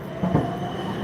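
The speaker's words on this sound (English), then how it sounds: "There's our tram." A tram on Glenferrie Road in Melbourne rolls past with a steady low rumble and faint wheel noise over street ambience, fairly close and without voices.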